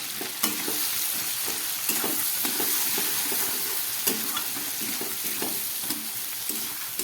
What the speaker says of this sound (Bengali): মটরশুঁটিটাও একটু ভেজে নিলাম এবার দিয়ে দিচ্ছি এক চামচ মতো জিরের গুঁড়ো